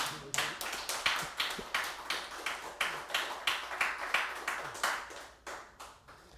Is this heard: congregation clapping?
yes